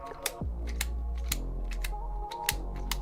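A magnetic Rubik's cube is turned by hand, giving a string of crisp, close clicks and snaps at an irregular pace with a steady hum underneath.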